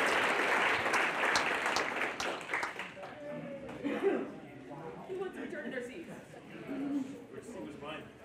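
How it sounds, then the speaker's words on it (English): An audience at a talk bursts into loud applause that fades over a few seconds, giving way to murmuring voices and scattered chatter in the room. "Give yourselves a round of applause."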